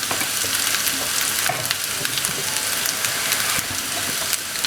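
Kashmiri chili powder frying in hot oil in a pan, a steady close sizzle and hiss that runs for the whole stretch, with a few faint clicks and no voices.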